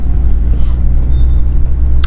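A cold 2001 BMW 730d diesel engine rumbles steadily and loudly up close, a constant low drone with a faint clack near the end and no speech.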